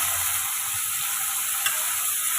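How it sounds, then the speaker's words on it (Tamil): Raw plantain and onions sauté in a hot pan with a steady, bright sizzle that holds evenly throughout, broken only by a faint clink of stirring. "இப்போ இதை நம்ம ரெண்டு நிமிஷம் நல்லா வதக்கி எடுத்துக்கலாங்க"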